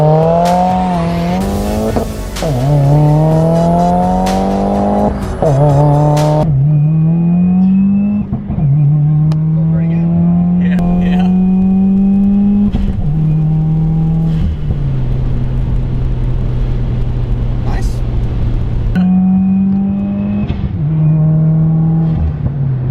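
Stage 2 Subaru WRX launching off a 2-step, loud engine bursting and revving in repeated steps with pitch climbing through gears, tire noise mixed in, close and continuous for the whole stretch.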